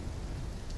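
Steady storm rain with low rumbling thunder in the video game Call of Duty Black Ops 3, a dense continuous wash of noise heard alone for a brief moment.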